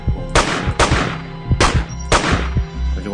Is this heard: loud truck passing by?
no